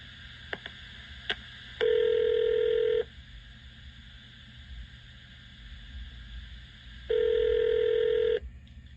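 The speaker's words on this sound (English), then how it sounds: "I'm going to dial his phone number right now." Two long steady telephone tones sound alone, each lasting about a second, with a few faint clicks of keypad presses before the first, heard while dialing a phone number during a radio show call.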